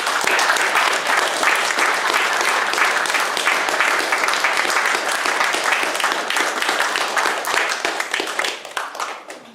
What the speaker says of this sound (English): big round of applause to Kate